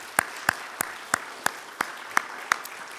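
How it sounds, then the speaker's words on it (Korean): A church congregation claps for the fathers during a Sunday service, heard as eight slow, evenly spaced claps standing out above a quiet room murmur. "열심히 사시는 우리 아버지들 박수 한번 드립시다"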